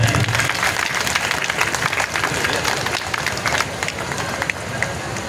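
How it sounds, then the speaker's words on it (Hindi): Loud, sustained applause from an audience at a speech event in a Buddhist vihara in Shuklaganj, a dense crowd of clapping hands filling the room for several seconds. "मैं चाहता हूं कि उनके लिए एक बार जोरदार तालियां बजाएं।"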